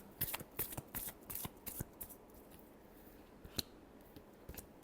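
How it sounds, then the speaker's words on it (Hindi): A deck of cards is shuffled in a quiet room, a quick burst of riffling flutters and taps, then a few sparse soft clicks and snaps. "Last shuffle."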